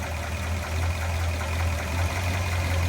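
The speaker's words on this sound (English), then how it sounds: "We'll fire it up here. Yeah, you can hear the solid lifters in that LS6 454." A 1967 Chevrolet Biscayne with an LS6 454 V8 and solid lifters idling, a steady low rumble with a faint ticking texture, close and continuous with no talk.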